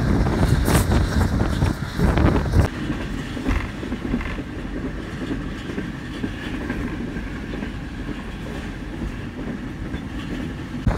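The 18 Down Millat Express, led by a ZC36 locomotive, runs through Janiwala railway station. Heavy rumbling and rhythmic wheel clatter are loudest at the start, then a steady rolling roar of passing carriages continues, with wind buffeting the microphone.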